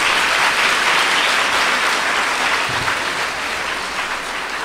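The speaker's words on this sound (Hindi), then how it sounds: "तालियां बजाइए।" A congregation claps loudly and steadily at a church sermon, a dense wash of applause that fades slightly toward the end.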